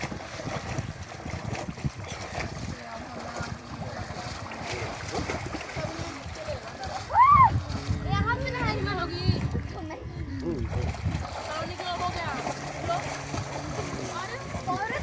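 People swim and splash in a flowing stream outdoors, with steady water movement and splashes beneath lively chatter and shouting voices, including children, close by.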